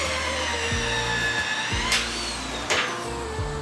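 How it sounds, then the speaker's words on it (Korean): A shear wrench drives TS bolts into H-beam steel on a building extension site, running in a loud mechanical whine with motor pitch shifts and a couple of sharp bursts as bolts tighten. "체결된 TS 볼트는 쉐어렌치를 사용해 고정 작업을 진행해줍니다"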